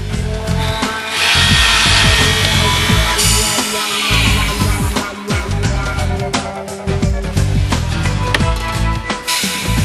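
Power tools whir and bite into wood as cabinet hinges are attached at a cabinet factory, loud close bursts of drilling rising and stopping repeatedly over a busy workshop din, with no talking.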